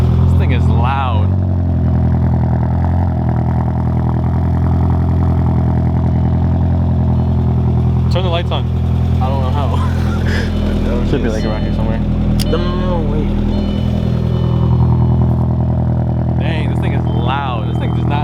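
A big-turbo Audi A4 four-cylinder engine runs loud and steady throughout, a deep continuous drone with people talking over it close by.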